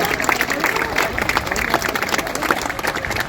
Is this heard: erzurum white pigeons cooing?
no